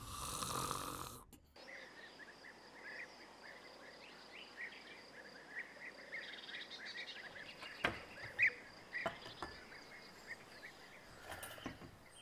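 A person snores quietly in slow, regular breaths, with faint night insects chirping steadily in the background after a brief louder burst at the start.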